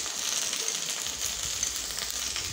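Sliced okra sizzles steadily in hot oil in a pan, a dense bright crackle with soft scraping as it is stirred, close and continuous with no talking.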